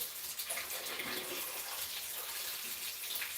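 Warm water runs steadily from a tap, a continuous hissing gush that stays close and fairly loud for the whole stretch with no talk over it.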